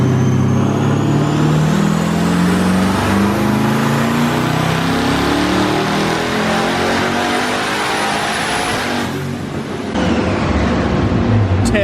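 A twin-turbo Chevrolet Camaro ZL1 on pump gas roars at full power for a long, loud, sustained run, its pitch climbing steadily before a brief dip near the end, with faint voices underneath.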